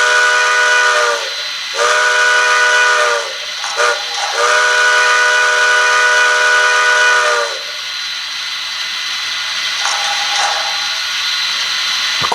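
A Bachmann HO scale model steam train with DCC sound plays a series of steam whistle blasts, several long steady tones with brief gaps, loud and close, then a quieter chuffing tail.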